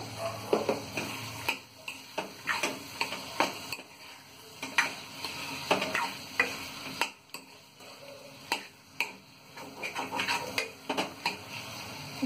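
Mushroom curry seasoned with salt is stirred in a pan, with frequent sharp ticks and scrapes of a utensil against the metal over a low, continuous sizzle, close and without speech.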